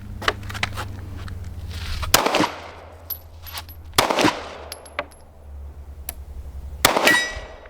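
Pistol shots from a Canik Mete MC9 or Hellcat Pro fired during trick shots at a range: about four sharp, loud single reports spaced a second or two apart, each followed by a brief metallic ring, over a low hum.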